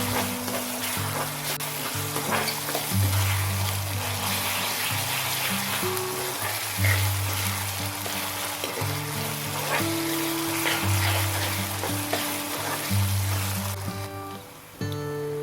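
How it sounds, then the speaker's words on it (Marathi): Chopped onion sautéing in hot oil for a raw jackfruit masala bhaji, a steady soft sizzle running beneath fairly loud background music throughout. "छानपैकी तेलामध्ये परतून घेऊया"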